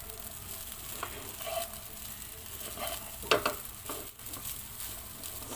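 Fried rice sizzling and frying steadily in a pan, with occasional clinks and scrapes of stirring, close and alone with no talk.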